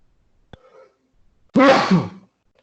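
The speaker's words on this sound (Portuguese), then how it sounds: "Esse espirrão aí é para pegar Covid" Single loud, close sneeze, a sharp burst that trails off over roughly half a second, preceded by a brief faint inhale and a small click.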